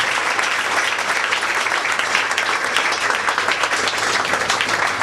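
Church congregation applauding the Lord during a prophecy service, sustained steady clapping throughout, loud and continuous with faint voices mixed in.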